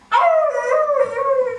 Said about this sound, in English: Barrymore, do you know anything about the dog?